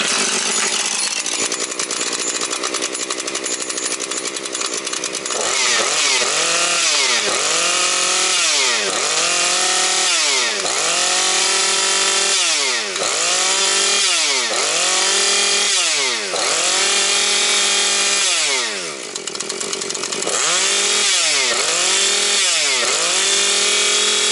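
A Husqvarna 130 chainsaw runs close and loud, its two-stroke engine blipped again and again in a steady rhythm of revs rising and falling over a constant buzzing idle.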